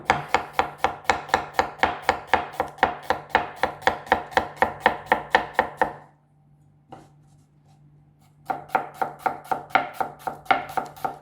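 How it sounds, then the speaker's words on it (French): Knife finely chopping onion on a board, a rapid, regular close rhythm of crisp cuts that pauses for about two seconds and then resumes. "On essaie de couper le plus finement possible."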